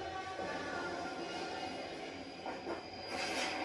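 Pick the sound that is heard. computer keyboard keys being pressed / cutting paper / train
train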